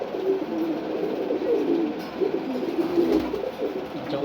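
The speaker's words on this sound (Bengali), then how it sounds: "দুটোই এখানে নর কবুতর" Two male pigeons of the khaki and ghiyachulli breeds coo repeatedly in low, rolling calls, close and clear over faint background noise.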